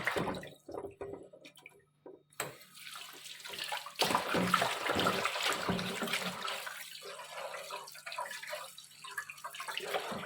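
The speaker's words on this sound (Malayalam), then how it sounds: "മീൻ ഒരു രണ്ട് മൂന്ന് വെള്ളത്തിൽ കഴുകിയതിന് ശേഷം" Fish being rinsed in water for a fish curry, with splashing, swishing and dripping close by, intermittent at first and then a continuous washing rush.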